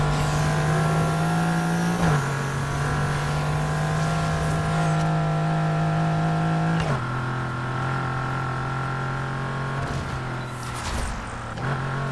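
A car drifting in Need for Speed Heat holds a steady, loud engine drone with a sustained high whine, the pitch dropping slightly at a few gear shifts, with no voices over it.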